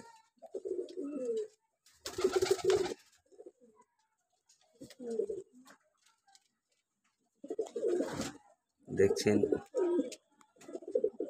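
Pigeons coo in soft, rounded bursts close by, repeating at irregular intervals with quiet pauses between, while a person speaks now and then among the calls.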